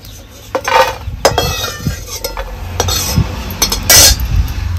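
Roasted garlic is scraped out of a pan onto a plate for peanut chutney, with close, loud metallic clinks and scrapes of a utensil arriving in quick irregular bursts.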